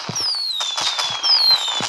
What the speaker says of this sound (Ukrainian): Да, це салюти.